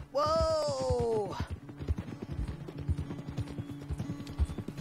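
Horse hooves clip-clop steadily in a quick rhythm while riding in Red Dead Redemption 2, opening with a loud whinny from the horse, then regular close hoofbeats continuing to the end.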